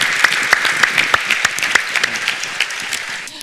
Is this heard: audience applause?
yes